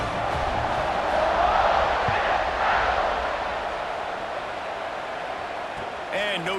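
A large crowd at an Ole Miss college football stadium roars in a broad, continuous wash of cheering before a kickoff, loud and distant-sounding, fading slightly toward the end.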